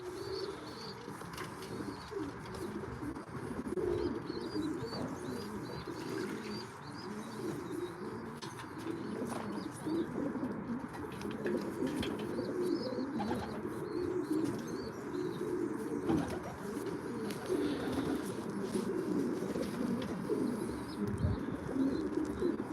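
Racing pigeons coo steadily in a big aviary, a continuous layered murmur of soft throaty calls with occasional chirps and brief wing flaps, fairly close and without talk.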